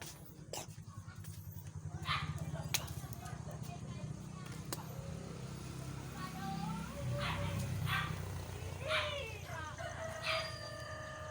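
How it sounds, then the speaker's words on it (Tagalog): A dog barks several times in an early-morning rural setting, the sharp barks mixing with roosters crowing nearby while people talk throughout. "may aso"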